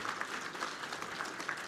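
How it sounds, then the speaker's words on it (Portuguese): Guests at a luncheon meeting with Michel Temer clap briefly, a short, fairly faint patter of scattered applause lasting under two seconds. "merece o aplauso de todos"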